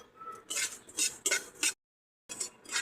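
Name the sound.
dry-roasting spices in a pan for mango pickle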